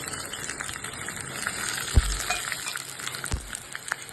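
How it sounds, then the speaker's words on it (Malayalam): Mustard seeds, fenugreek and dried chillies fry in hot coconut oil, giving a soft continuous sizzle broken by small pops and a couple of sharp clinks of a utensil against the pan. "വെളിച്ചെണ്ണ ഇട്ട് കൊടുക്കുന്നുണ്ട്, കടുക് ഇട്ട് കൊടുക്കുന്നു, ഉലുവ ഇട്ട് കൊടുക്കണേ, വറ്റൽമുളക് ഇട്ട് കൊടുക്കുന്നു"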